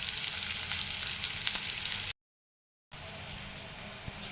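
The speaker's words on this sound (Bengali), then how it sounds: "মিষ্টি কুমড়োগুলো খুব সুন্দর মতো ভাজা হয়ে গেছে" Pumpkin pieces frying in hot oil make a steady, dense sizzle with faint stirring, with a short silent gap midway and no talking.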